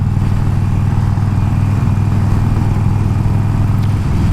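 A Harley-Davidson Iron 1200 motorcycle rides along Mundaring Weir road, its engine a constant loud, low rumble with a steady drone and no pauses.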